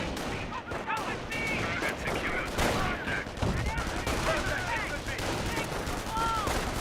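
Infantry rifle and machine-gun fire crackles in Company of Heroes, a World War II strategy game, a dense, continuous battle din of rapid shots and bursts with occasional blasts, mid-distance and without talking.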